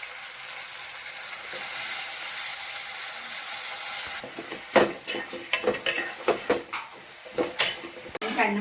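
Bitter gourd pieces fry in oil in a pan with a steady hiss, and a spoon clatters and scrapes against the metal as the pieces are stirred. Someone talks over the cooking.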